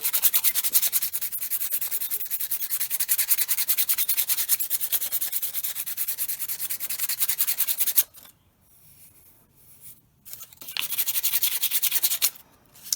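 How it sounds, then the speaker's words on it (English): Sanding glitter off a Dollar Tree votive: a steady, close scratchy rubbing that runs continuously for about eight seconds, pauses briefly into near quiet, then resumes in a couple of short strokes. "I'm going to work on just sanding this off"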